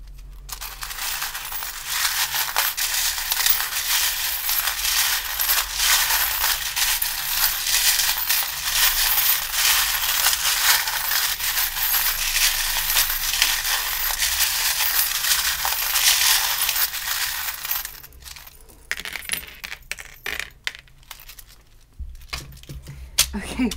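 Tarot charms and dice tumbling and clattering onto cards during a reading, a dense stretch of small rattling drops that stops abruptly near the end.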